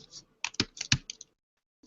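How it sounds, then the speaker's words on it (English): Bursts of computer keyboard typing during a technical programming talk, a quick cluster of key clicks then a pause and a final keystroke, close and moderately quiet. "Typing in the wrong window."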